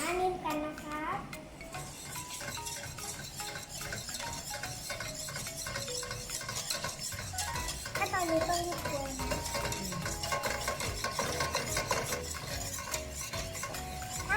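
A spoon stirs thickening liquid in a pot for a Milo cake, with soft scraping and clinks of utensil against metal, and a voice chatting in the background throughout.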